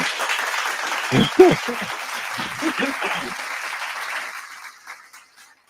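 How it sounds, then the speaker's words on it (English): Applause from a small group during a community talk show, moderate clapping that swells briefly and fades toward the end, with some voices mixed in. "You deserve an applause for that."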